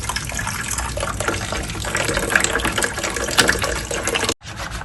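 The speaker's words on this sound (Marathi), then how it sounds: "पाणी बघा किती घाण निघालंय" Dirty water gushes steadily out of a front-load washing machine during cleaning, a continuous splashing flow that is close and fairly loud, cutting off abruptly near the end before resuming.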